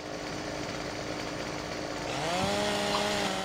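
A chainsaw on a farm idles with a steady drone, then revs up with a rising, buzzing engine whine toward the end, close and loud with no talking.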